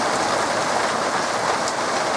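Heavy August rain with large drops pours down in Barnaul, a dense, steady, close hiss of water pattering on surfaces with no voices.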